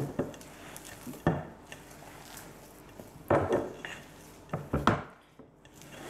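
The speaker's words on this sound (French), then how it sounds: "Allez, et on touille. Donc ça va vous faire une pâte." A spoon stirring biscuit dough in a bowl, soft scraping and dull knocks at irregular intervals, close by with a few sharper clinks and no talking.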